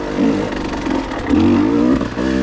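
A KTM 150 XC W TPI two-stroke dirt bike pulls hard in second gear on a single-track trail with slick roots, its loud nearby engine rising and falling in a few short revving surges as the clutch is worked.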